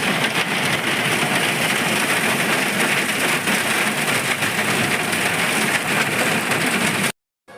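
Heavy rain pours steadily and loudly during a rainy cricket outing, a dense, unbroken roar of downpour that cuts off abruptly near the end.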